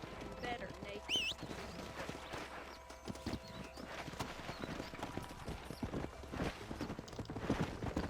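A horse gallops in the Western video game Red Dead Redemption, with quick rhythmic clip-clop hoofbeats running continuously, a brief whinny early on and voices talking over the riding.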